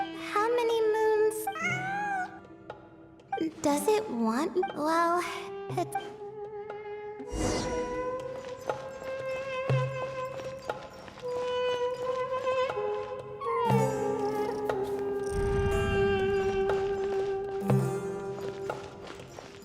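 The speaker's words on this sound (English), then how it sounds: "It really is a cat." A cat in the Genshin Impact video game meows repeatedly, with several clear, close cries spread across the scene, some long and drawn out, and brief speech in between.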